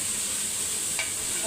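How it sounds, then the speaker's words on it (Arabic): Peas and carrots sautéing in a pan with onion and garlic, a loud, steady, close sizzle holding evenly throughout, with one faint clink partway through. "نسيبها تتشوح بقى ونرجع تاني"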